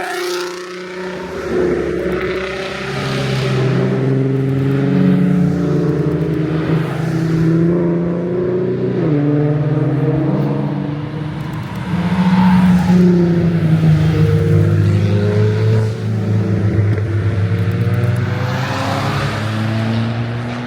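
Volkswagen cars rolling by on a parade lap at the Wookies In The Woods VW event, a continuous loud stream of engine drones and revs from several passing cars, rising and falling without pause.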